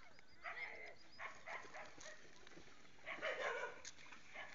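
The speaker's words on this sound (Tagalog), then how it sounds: "May mga aso pa dito, maingay" Dogs barking and yipping by a river, a few scattered faint barks and whimpers at some distance, set against quiet outdoor ambience.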